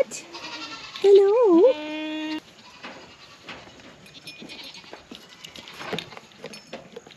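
Goats bleat in a farm barn, with one loud, wavering bleat near the start followed by quieter rustling and shuffling, and a person talking softly over the scene.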